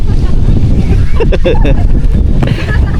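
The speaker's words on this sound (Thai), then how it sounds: "ลมแรงขนาดเลยครับ" Strong, cold wind buffets the microphone during a road trip through Laos, a constant loud roaring rumble that lasts the whole time, with a voice faintly under it.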